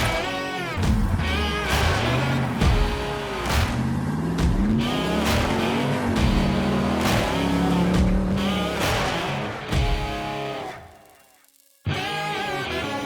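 An Ultra 4 4600-class off-road race car with a 392 engine revving hard at the race start, heard onboard as loud rising and falling engine roars through gear changes, cutting out briefly before the roar returns.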